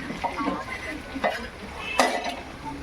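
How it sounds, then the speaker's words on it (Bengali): Onions frying in a pan for mutton curry, a soft continuous sizzle with a few quick scrapes and clinks of a spatula against the pot, close and fairly quiet. "পেঁয়াজ কিন্তু প্রায় ভাজা হয়ে গেছে"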